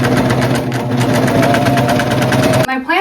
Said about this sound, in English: now I'm just going to attach this with my serger